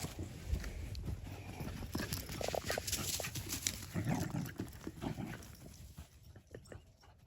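Several dogs whimper and whine in short, high, irregular bursts over shuffling and clattering, with no clear talk.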